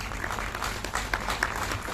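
A crowd applauding steadily with dense, continuous clapping, fairly faint and distant, with a hint of voices mixed in.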